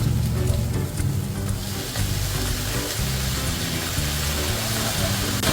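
Fish sauce sizzles in a pan with ginger and onion while cooking crab in coconut milk, a continuous close frying hiss with a low rumbling undertone throughout.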